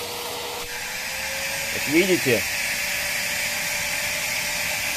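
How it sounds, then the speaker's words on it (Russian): A corded mains-powered vacuum cleaner runs with a steady, high motor whine and a broad airy rush throughout, while someone speaks over it. "Вот мы запустили сетевой пылесос,"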